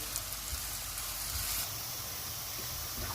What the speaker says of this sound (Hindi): प्याज को हम गोल्डन फ्राई करेंगे।